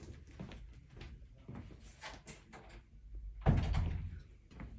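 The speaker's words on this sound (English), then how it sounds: "That was me closing the door." A door swings shut indoors with a single solid thunk near the end, following quieter household rustling and movement.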